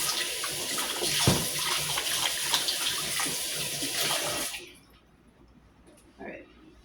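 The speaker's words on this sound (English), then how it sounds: "I'm also going to rinse this bowl out." Tap water runs steadily while a mixing bowl is rinsed in a kitchen sink, then cuts off, leaving a few quiet clinks afterward.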